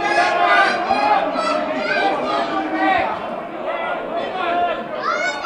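Angry home crowd of Budafoki MTE at a football match, protesting a goal ruled offside, roaring and shouting en masse in a loud, continuous wall of voices.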